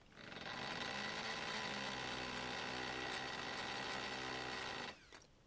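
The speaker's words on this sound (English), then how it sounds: "Put the drill into hammer mode." A power drill running in hammer mode drives a homemade steel tool with an indentation against a steel axle end on a restored Dinky 171 Hudson Commodore model car, a loud steady buzzing rattle for about five seconds before it abruptly stops.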